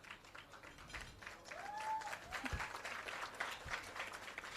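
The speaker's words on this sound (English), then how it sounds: "A round of applause, please." An audience at an employee service awards ceremony claps, a fairly faint, diffuse patter of many hands that swells slightly midway and continues without speech.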